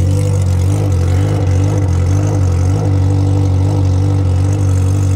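A Honda Hornet motorcycle engine runs close and loud, holding a steady, throbbing low drone with little change in pitch throughout.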